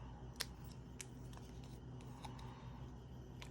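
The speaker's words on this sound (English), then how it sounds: "So we're gonna go ahead and fussy cut these out." Scissors fussy cut around a stamped cat image on paper, small crisp snips at irregular intervals over a low steady room hum, close and quiet with no talking.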